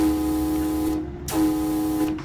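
A steady, tonal P32 locomotive horn blast in Train Simulator Classic, held with a brief break and resumed, with a hissing release in between.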